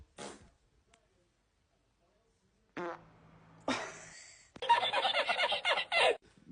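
Fart sounds come in short, loud, sputtering bursts separated by silence, with the last stretch a long rattling series close to the microphone, mixed with giggling.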